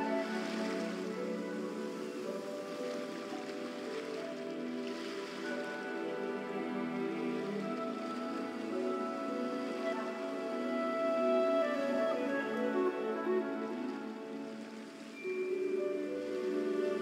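Steady rain falling on surfaces, a dense even hiss that lasts throughout without a break, moderately loud with no voices.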